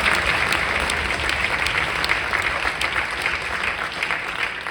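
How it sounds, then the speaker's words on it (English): A concert audience applauds jazz band soloists, steady many-handed clapping at moderate volume that gradually thins toward the end. "So another round of applause on all three of them."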